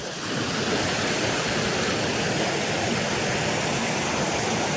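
A waterfall on a hillside walk sends out a steady, broadband rush of falling water, close and loud, with no break throughout.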